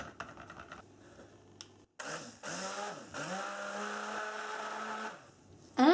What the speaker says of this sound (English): bring it to a light trace using the stick blender